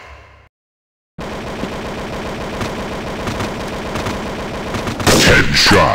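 Rapid gunfire from the mobile shooter Critical Strike GO rattles in a dense, continuous stream after a brief silence, then swells louder with harsher bursts near the end.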